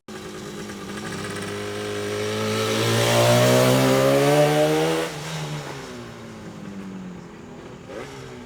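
An early Yamaha two-stroke motorcycle engine runs alone, its buzzy note rising steadily to a peak around the middle, then dropping back to a lower idle-like drone with a brief blip near the end.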